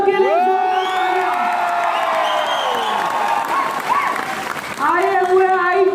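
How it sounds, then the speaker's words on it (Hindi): An audience at a MIDIGIWORLD promotional program in Guwahati breaks into loud applause with cheers and whoops, while an amplified voice with echo carries over the crowd throughout. "जोरदार तालियां"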